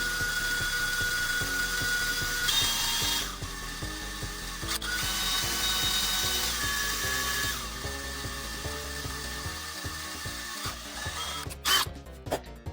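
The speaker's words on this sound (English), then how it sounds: "when you drill into the Mr. Potato Head, you want to start with the smallest bit possible" A small drill bit bores into a hollow plastic Mr. Potato Head toy, a steady close whirring grind running almost without pause before a brief rattling burst near the end.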